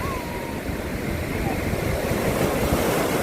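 Sea waves wash in around feet at the shore, a constant rushing surf roar with wind buffeting the microphone, steady and close throughout.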